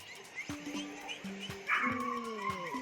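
Dogs in the dog area of a pet shop at a Fish Village attraction in Ban Pong, faint yips and short whiny barks scattered among background noise.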